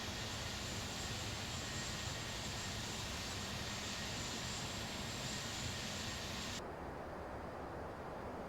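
Steady, unbroken engine roar of an Airbus A321 cruising in the X-Plane 11 flight simulator, a constant broadband drone with no talk.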